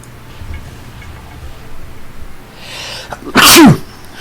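One sharp, loud sneeze bursts out abruptly after a few seconds of quiet room noise, with a quick falling vocal tail.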